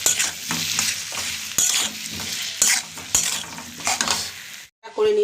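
Salted tomatoes sautéing in a pan, loud close sizzling broken by rhythmic scraping stirs and spoon clinks, cutting out briefly to near silence before resuming.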